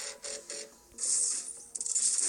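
Rodimus Prime transforms in the Transformers: Earth Wars game: three quick mechanical clicks, a short lull, then a bright whirring, ratcheting burst of robotic servo and metal-shifting effects, crisp and close.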